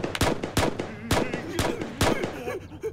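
Gunshots ring out in a wartime action drama: four or five sharp, loud cracks in quick, uneven succession, close and echoing.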